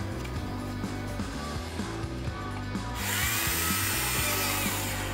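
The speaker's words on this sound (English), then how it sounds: "In order to install the hard points for the missiles, some holes needed to be opened up on the wings." Small holes drilled into the plastic wings of an Italeri 1/48 F/A-22 Raptor model kit; a steady mechanical whir with rhythmic low pulsing, turning to a brighter, louder grinding buzz partway through, close and with no talk.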